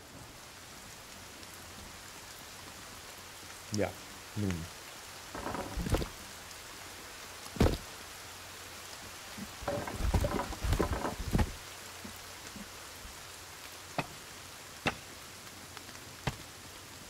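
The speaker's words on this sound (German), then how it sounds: "Und es gewittert und regnet." Rain patters steadily in the survival video game Sons of the Forest during a thunderstorm turning to sleet, with scattered sharp drop ticks and impacts, quiet overall, and someone speaks a couple of words.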